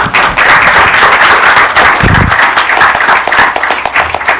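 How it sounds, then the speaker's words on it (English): An evening lecture audience claps for an arriving speaker, a lively burst of many hands clapping near and loud, with a brief thump partway through. "let's give him a big round of applause this evening"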